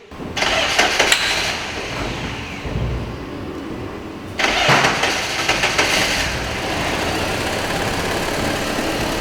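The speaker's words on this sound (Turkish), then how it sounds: "Aracı şimdi çalıştırıp sesini sizlere dinletiyorum." A Fiat Albea 1.4 with a crankshaft and camshaft position sensor fault cranks and fires up twice, each start a sudden burst of engine noise settling into a close, steady idle.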